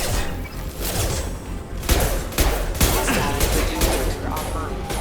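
Heavy gunfire rattles through a Mass Effect firefight, a dense mix of loud shots and sharp impacts with several hard bursts cutting through game noise and voices.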